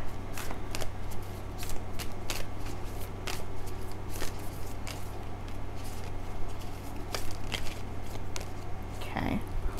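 Close, rapid riffling of tarot cards being shuffled by hand, a continuous run of crisp, papery flicks and taps over a faint hum, with a soft sound near the end.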